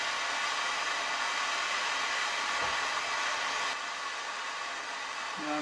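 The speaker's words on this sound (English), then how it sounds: "I have to keep the flame away from the other silver solder joints because I don't want to melt them." A torch flame heats a large piece of metal for silver soldering, giving a steady, close, breathy roar that holds evenly throughout with no talking.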